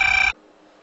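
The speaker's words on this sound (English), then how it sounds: "Will somebody answer the fucking phone?" The tail of a single loud, close telephone ring cuts off abruptly in a quiet indoor scene from a short drama, leaving near silence.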